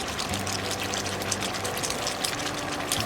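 Water poured into a cooking pot, a steady close splashing stream with a low resonant filling tone running for about three seconds.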